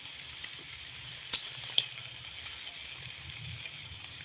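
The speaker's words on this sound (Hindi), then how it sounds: "दूसरी तरफ से भी इसी तरह से गोल्डन कलर आने तक समोसों को फ्राई कर लूंगी।" Potato samosas deep frying in hot oil, a steady soft sizzle with faint crackles and a few small pops, fairly quiet and with no talk.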